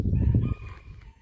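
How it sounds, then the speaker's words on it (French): Chickens and a rooster on an urban farm give a short, fairly close burst of clucking and crowing that fades into a quieter calling tail. "Des poules dans le fond."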